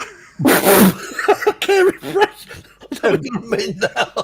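A single sharp sneeze bursts out near the start of a live drone-show conversation, loud and close, followed by ongoing speech from the talkers.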